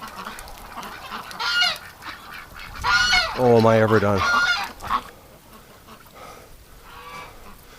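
Ducks kept through winter honk and quack in a loud, close burst of several harsh calls midway through, with quieter calls before and after, and a person speaks over the birds.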